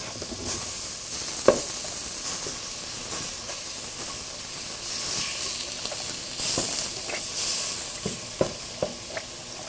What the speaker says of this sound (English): Alex is stirring up the ground beef